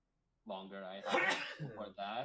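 A single sharp sneeze bursts out partway through someone's close, conversational talk, loud and brief before the speaking carries on.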